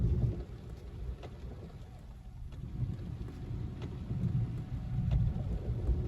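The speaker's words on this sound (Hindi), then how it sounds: "इस टाइम भी बारिश हो रही है" Steady rain falling at night in the jungle of Jim Corbett National Park during a night drive, a continuous hiss with soft patter and occasional drips over a low rumble, no voices.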